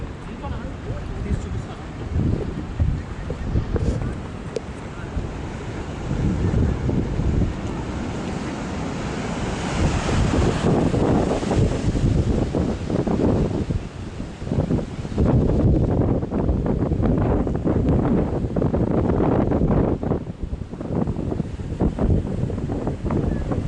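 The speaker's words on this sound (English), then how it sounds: "really pretty watching the waves hit here" Ocean waves wash against the shore at the Sutro Baths ruins in San Francisco, a continuous roaring surge with heavy wind buffeting the microphone, swelling louder midway, while people speak briefly nearby.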